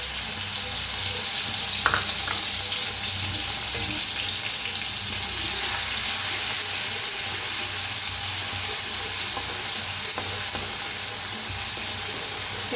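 Crushed green chilli and garlic fry in hot oil, giving a steady, even sizzle with soft crackle that holds unbroken throughout, close and moderately loud with no talking.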